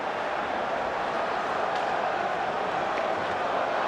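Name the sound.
hockey arena crowd reacting to a collision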